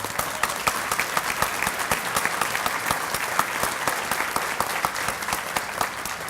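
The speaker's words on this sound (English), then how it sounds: "would you stand and get a round of applause too" A room full of people claps steadily for university faculty and staff, dense and continuous with crisp individual hand claps standing out throughout, no voices over it.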